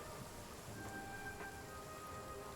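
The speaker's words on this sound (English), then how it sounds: "Oh no, wait, it's raining." Faint, steady rain in the Genshin Impact game world hisses evenly throughout, a soft distant wash with a few quiet tonal game sounds layered on top.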